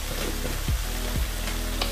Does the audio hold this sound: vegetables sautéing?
yes